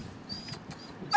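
A dog in Greenland gives soft, thin whimpers close by, ending in a brief louder yelp-like whine.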